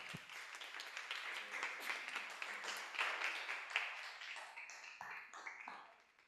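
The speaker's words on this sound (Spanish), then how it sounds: "No sé si escuchaste los aplausos acá, Catalina, pero sí, acá te aplaudimos todos" A small group claps steadily in an office for several seconds, the applause peaking in the middle and thinning out at the end.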